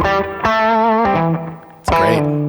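Electric guitar chords ring out loud and close through a Coffee Shop Pedals Cortado stereo reverb pedal, bathed in a bouncy, splashy spring reverb that trails after each strum.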